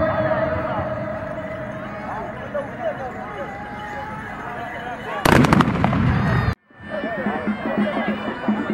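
Tbourida horsemen fire a synchronized musket volley at a festival in Mograne near Kenitra, a sharp, loud crackling blast bursting over a crowd and announcer's voice, then cutting off to a brief silence before the crowd noise returns.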